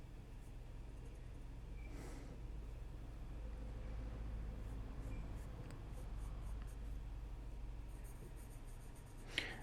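Graphite pencil sketching on paper for a goblin drawing, a soft continuous scratchy rasp of strokes that stays steady and close throughout, with a brief sharper tap near the end.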